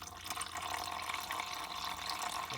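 Coolant draining from a 9th-generation Honda Civic radiator, a steady trickling, splashing liquid stream with faint drip texture, moderately quiet and continuous, no talking.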